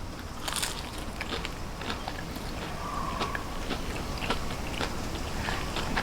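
Someone bites and chews crunchy pre-made panko-crusted fish close up, with crisp crackling crunches repeating steadily over a noisy restaurant background.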